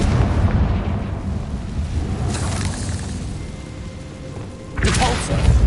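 Confringo blasting spell from Hogwarts Legacy, a run of loud explosive bursts: a rumbling blast with crackling impacts, then a sharper boom near the end.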